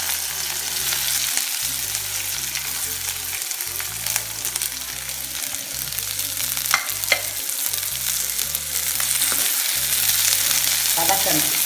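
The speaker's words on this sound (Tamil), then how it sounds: "வதக்கணும்" Onions fry for Nagercoil-style onion pachadi in a pan with mustard seeds and pepper, giving a steady crackling sizzle with occasional stirring scrapes, close and unbroken, while background music plays and no one speaks.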